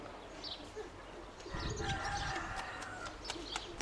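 Pigeons coo softly at a distance amid outdoor ambience, with a few brief chirps and rustling noises.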